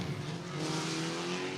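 IMCA sport compact race cars at Cottage Grove Speedway roar steadily at a distance, a broad engine drone with a sustained tonal whine that holds for the whole short moment.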